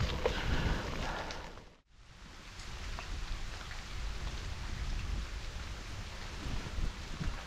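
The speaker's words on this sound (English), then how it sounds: "it's definitely raining now." Steady rain falls continuously during a bicycle ride, a dense hiss of drops pattering on surfaces, with a brief dip in the noise partway through.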